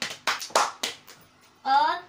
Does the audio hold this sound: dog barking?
no